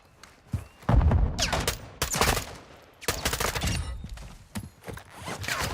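AI enemies firing guns in Call of Duty DMZ, bursts of rapid gunfire and separate sharp shots arriving in clusters, loud and close, with quieter gaps between volleys.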